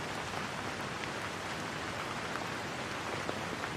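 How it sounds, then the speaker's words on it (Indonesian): Steady rain falling on surfaces at night, a dense, even hiss with faint scattered drops, continuous and close, with no voices. "aku pengen kamu ngedengerin suara hujan ini."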